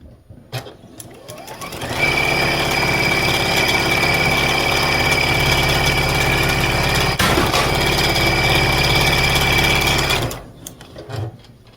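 A sewing machine stitches quilt pieces for a snowman quilt, running in one steady, fast mechanical burst of about eight seconds, close and loud, with brief quiet handling noises before and after.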